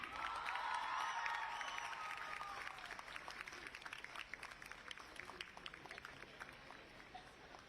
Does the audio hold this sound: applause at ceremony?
yes